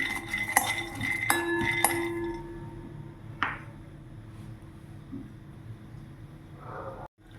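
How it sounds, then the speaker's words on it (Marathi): Peanuts dry-roasting in a pan over a medium gas flame, with clinks and scrapes of a spoon against the metal in the first few seconds, then a quieter rattle and a low background hum. "शेंगदाणे चांगले भाजून घेते मीडियम गॅस फ्लेम ठेवून"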